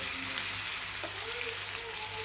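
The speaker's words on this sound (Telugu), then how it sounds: "ఎర్రగడ్డలు కోసి పెట్టుకున్నామని దాన్ని డీప్ ఫ్రై చేసుకుందాం" Chopped onions deep frying in hot oil for a Rayalaseema brinjal chutney, a soft, steady sizzle held at a low, even level from start to finish, with no break in the hiss.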